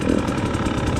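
An enduro dirt bike engine idles steadily up close, a continuous low burbling putter with no revving, heard on its own.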